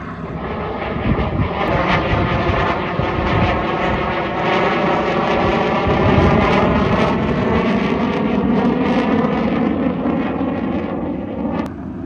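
A modified BMW 335is making 538 horsepower roars at length, a loud, steady, droning engine and exhaust note with a gritty rumble, close up and alone.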